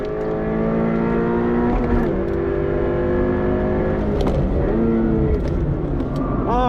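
Subaru BRZ on a race track, its engine revving hard toward the red line with a rising whine, holding high, dipping briefly and climbing again, loud and close throughout.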